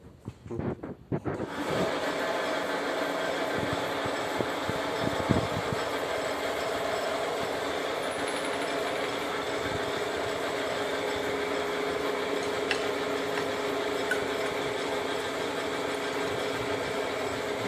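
A milling machine up-milling the teeth of a spur gear, giving a steady, even mechanical roar with a faint underlying hum that holds at constant loudness for the whole stretch after a brief start.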